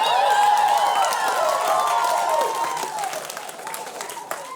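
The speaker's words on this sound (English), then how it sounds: "Felt like that was more an applause of pity than anything." Audience applause and cheering at a stand-up comedy special, a dense wash of clapping that starts loud and gradually thins out, with faint voices and whoops mixed in.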